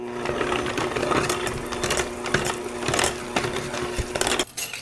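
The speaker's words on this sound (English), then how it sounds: "I'll just use my hand mixer to break these potatoes down" An electric hand mixer whirs continuously as it mashes cooked sweet potatoes for a casserole, a close, steady motor drone broken by soft knocks and thumps against the bowl.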